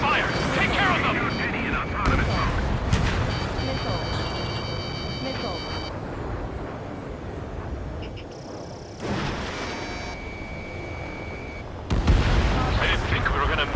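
Heavy gunfire and booming explosions fill an Ace Combat 7 air battle, loud rumbling bursts and cannon fire under radio chatter, with sharp blasts hitting near the end.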